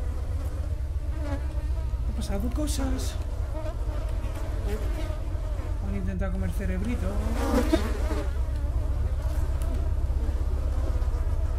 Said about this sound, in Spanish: ¿Y estas moscas? ¿No estaban antes?